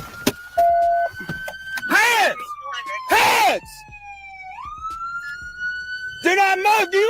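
A police car siren wails and sweeps in loud, close bursts during a traffic stop, alternating with a steady tone and a short yelp, while shouted voices break in between.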